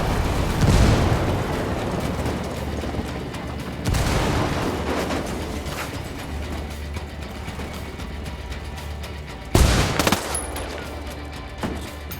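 Grenade blasts and bursts of gunfire from the video game Ghost Recon Wildlands. A loud boom lands near the start, another around four seconds and a sharp blast near ten seconds, with steady rattling fire filling the gaps.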